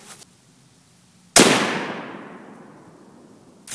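A single loud gunshot strikes an AR500 steel plate fitted with a spall guard, a sharp crack followed by a ringing, slowly fading decay in an otherwise quiet outdoor setting.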